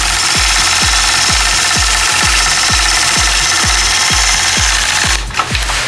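A sewing machine quilting curved lines along a Sway 6 ruler runs loud and close, with a fast, even mechanical thumping rhythm over a constant motor whir that stops abruptly near the end.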